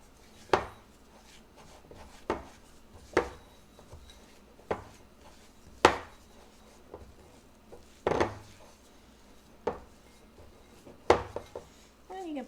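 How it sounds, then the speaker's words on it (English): A spoon scrapes and knocks against a bowl while chocolate chip cookie dough is stirred, about a dozen separate clacks and scrapes at uneven intervals, close and fairly soft. "let's just stir this up a little bit here."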